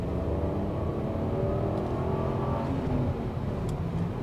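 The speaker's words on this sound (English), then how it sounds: "It's a classic sort of mechanical, almost raspy BMW straight 6 noise." A BMW 5 Series straight-six engine accelerates onto a highway with a steady, raspy mechanical growl that rises in pitch, heard from inside the car.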